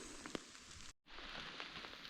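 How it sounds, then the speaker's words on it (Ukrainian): Steady rain falls in an autumn forest during mushroom picking, a faint, even hiss of drops on leaves that continues without pause. "Дощ іде, то великий, то менший, але безперервно."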